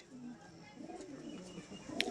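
Pigeons of fancy tail breeds coo softly in a low rolling murmur, faint and fairly close, with a brief sharp chirp near the end.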